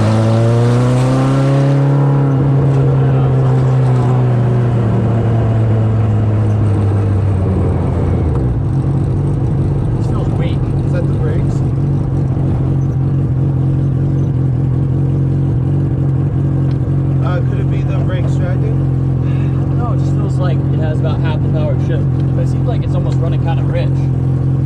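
A mini truck with a Hayabusa motorcycle engine swapped in drives off, its engine rising in pitch as it revs, then settling into a loud, steady drone while voices talk faintly underneath.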